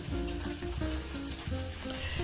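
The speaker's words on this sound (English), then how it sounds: "that is the sound of the bacon sizzling" Bacon sizzles and crackles steadily in a hot pan, close up, with no talking.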